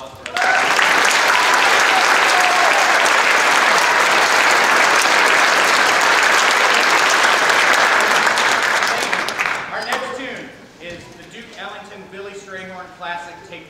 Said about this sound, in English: Can I have another round of applause for them?